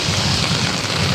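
Heavy, continuous rain pours down in Manila, a dense steady hiss of water on surfaces with no pauses, loud and close across the whole moment.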